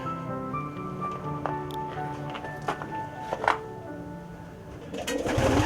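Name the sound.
racing pigeons cooing in loft aviary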